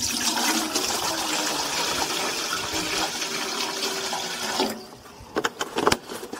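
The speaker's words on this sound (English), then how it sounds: "pour water into a bucket, then into the moonshine to avoid a violent reaction" Bottled water poured into apricot moonshine, a steady splashing rush of liquid filling a vessel for several seconds, stopping abruptly and followed by a few sharp clinks and knocks.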